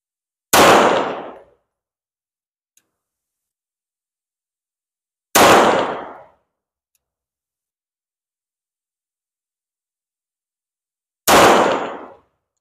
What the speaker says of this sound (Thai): ยิงด้วยชาโดว์ก่อนนะครับชาโดว์2นะครับ